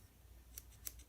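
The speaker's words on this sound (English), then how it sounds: "on the opposite end, you have scissors" Small scissors on a folding multi-tool knife snip twice, giving two quick, faint metallic clicks against a quiet background.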